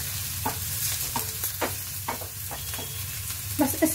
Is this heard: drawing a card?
no